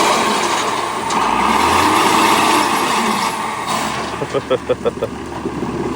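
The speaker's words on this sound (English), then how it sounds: "So here's the shaker tractor." A pecan tree shaker tractor's engine runs at a loud, steady drone, with a short series of rhythmic thumps near the end and people talking over it outdoors.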